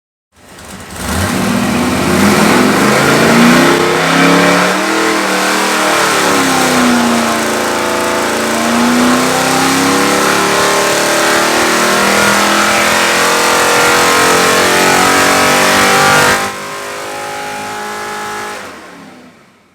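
A rebuilt big block LS6 454 V8 on a dyno is held at a loud sustained roar as it winds out toward 6200 RPM, pitch climbing for about fifteen seconds before dropping back to a quieter idle.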